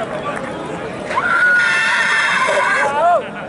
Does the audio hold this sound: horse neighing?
yes